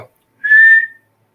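A person imitates a high whistle heard in hardwood forest by whistling one clear, steady tone lasting about half a second, close and loud, alone after a brief breath.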